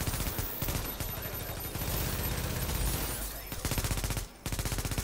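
Enemy shotgun fire in The Division, loud rapid blasts stacking into a near-continuous barrage, briefly dropping out near the end before resuming, with a faint voice beneath.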